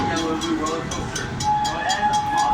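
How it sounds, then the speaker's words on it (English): A red train with yellow cars rolls through a railroad crossing, its wheels clacking in a steady, evenly spaced rhythm over a sustained tonal whine, loud and close. "red train with yellow cars. It just left for Nairobi train station"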